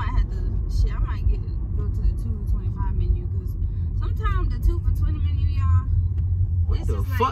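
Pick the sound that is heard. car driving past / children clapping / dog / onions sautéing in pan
car driving past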